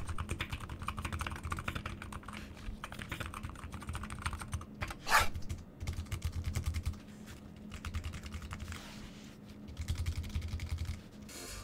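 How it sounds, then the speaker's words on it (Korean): Fingers type on a mechanical keyboard fitted with Gateron gen 2 switches, a steady, fairly quiet run of close keystroke clacks with brief pauses and one sharper press. "게이트론 2세대가 들어간 제품을 골랐습니다. 그래서 이제 타건 차이를 보시면"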